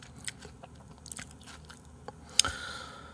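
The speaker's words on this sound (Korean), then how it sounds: "방울토 먹을 때 소리 쩝쩝 내는 것 좀 하지 말아주세요" Someone eats cherry tomatoes with loud, wet chewing: a few close crunchy bites and smacking mouth sounds spread out over quiet room noise, the last bite sharpest.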